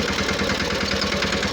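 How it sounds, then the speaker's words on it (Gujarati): A mini tractor engine idles close by beside a new well under construction, a steady low chugging rumble with a faint knocking pulse, continuous and alone without voices. "મિની ટ્રેક્ટર છે આપણી પાસે"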